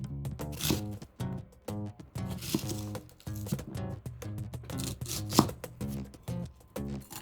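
A knife cuts a fairly large onion into wedges for Katsuura tantanmen, giving a steady run of close, crisp chopping strokes that continue alone for several seconds.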